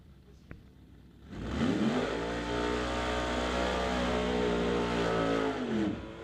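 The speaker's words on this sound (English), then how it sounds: "Car has been refired." A refired drag racing car engine roars up in a Lucas Oil Drag Racing Series divisional event at Mission Raceway. The loud, sustained revving swells after a quiet start and holds strong, with a commentator's voice faintly beneath it.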